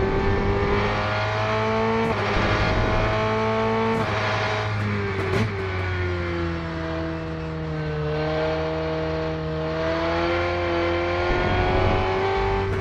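Race car engine in the RENNSPORT racing game drones and revs through a lap, pitch rising and falling through gear changes with a few sharp shift clicks, loud and continuous.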